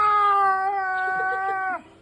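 A voice imitates a cat in heat, a long, drawn-out yowling wail that holds steady, then drops off abruptly near the end.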